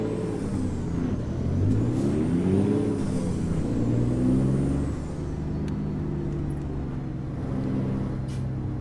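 A Peterbilt truck engine in American Truck Simulator, rumbling and rising in pitch as it revs through gears, then settling into a steady drone, with brief hissing bursts from the air brakes.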